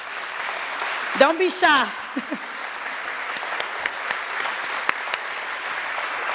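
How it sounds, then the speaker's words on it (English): An audience claps for a county HR team at a leadership program graduation ceremony, a short burst of applause heard alongside a speaker's voice, then fading into quiet room tone. "please stand up so we can give you a round of applause"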